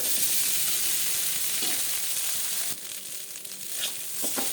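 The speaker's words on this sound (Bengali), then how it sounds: "পেঁয়াজটাকে একটু ভাজা ভাজা করে নেব" Onion and green chilli fry in hot oil for chira poha, a steady close sizzle that runs unbroken, softening partway through, with faint stirring scrapes near the end.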